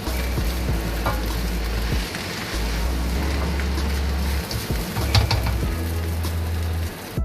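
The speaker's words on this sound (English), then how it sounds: "Stir it properly and allow it to cook, because you're actually frying the rice" Rice with eggs and soy sauce, part of a Jamaican chicken and shrimp fried rice, sizzles loudly in a pot, a constant close frying hiss broken by occasional scraping and stirring knocks.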